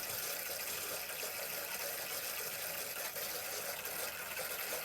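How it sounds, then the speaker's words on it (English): Hot water running from a caravan sink tap in a 2024 Adria Twin 640SGX Supreme with the pump on, giving a pressurised flow: a steady, even hiss of running water, fairly close, with no talk. "make sure the pump's on, you get a pressurised flow of water"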